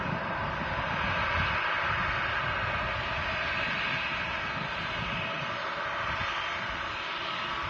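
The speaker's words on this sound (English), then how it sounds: "737-800, touching down. A lot of braking used right at the end there, just to slow it down." A Ryanair Boeing 737-800 jet landing at Manchester Airport gives a steady, broad engine roar throughout, heard from a distance at moderate level with no voices.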